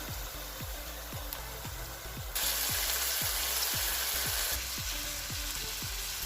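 Chicken pieces fry in hot oil with lightly browned onions, giving a steady loud sizzle with a rhythmic scrape of a spoon stirring the pan about twice a second, and the hiss swelling as the meat goes in.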